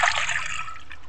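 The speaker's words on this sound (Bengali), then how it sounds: "প্রথমে কড়াইয়ের মধ্যে আম্মা পানি দিয়ে দিল" Water is poured into a wok for cooking moringa leaves, a brief bright splashing trickle that fades out within about a second.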